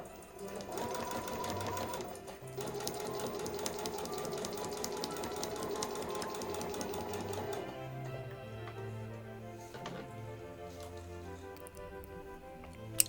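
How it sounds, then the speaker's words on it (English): Sewing machine stitching a quarter-inch seam while piecing rows of a simple quilt, a steady rapid mechanical whir and tick running continuously near the mic, slowing and pausing briefly partway, then resuming in shorter runs. "here I'm going to sew that seam, keeping in mind that all of my quilting seams are 1/4 inch"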